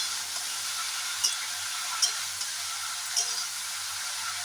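Sliced ridge gourd frying in a pan, a steady soft sizzling hiss with a few faint clicks of stirring.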